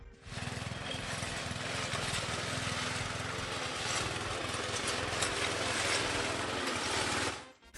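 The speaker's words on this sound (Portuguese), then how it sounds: "quando você pode simplesmente fixar um cortador de grama em um cabo?" A lawn mower fixed on a pole trims hedges with a loud, continuous engine drone and blade whir lasting several seconds before abruptly cutting off.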